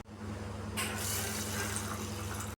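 Water pours into a vessel holding mustard seeds, cumin, coriander seeds and raw rice for soaking, a steady close splashing stream that begins after a moment over a low mechanical hum.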